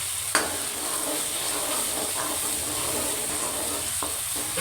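White lobia curry with green chillies sizzles and bubbles in a pan while a spoon stirs it, giving a steady close frying hiss with a few sharp scraping knocks.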